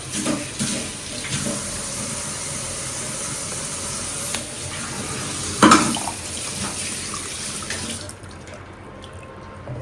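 Water pours steadily into a glass, a continuous splashing stream at close range lasting about eight seconds before tapering off into quiet.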